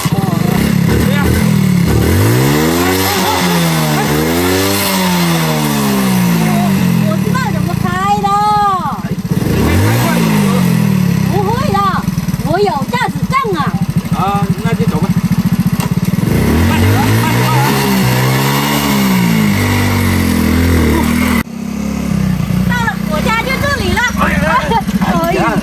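A motorcycle taxi engine revs repeatedly in loud rising and falling sweeps, sputtering between bursts and then climbing again, close by and running continuously while people talk over it.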